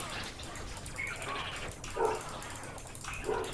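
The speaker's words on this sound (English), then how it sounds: "I do apologize for the dog barking" A dog barks faintly in the background of a Command & Conquer 3: Kane's Wrath game session, with two or three short yips rising briefly above a steady wash of game sound.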